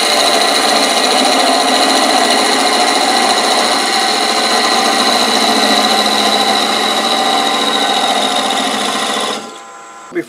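Wood lathe spinning a workpiece while a tenon is turned for a lamp repair, a loud steady whir with scraping tool noise that runs continuously, then stops abruptly near the end.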